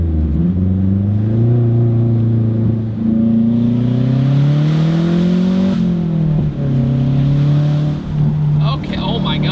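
A MazdaSpeed6 engine revs hard after a downshift to second gear, loud rising harmonic pulls that dip briefly at each shift and climb again, with a voice speaking over the engine.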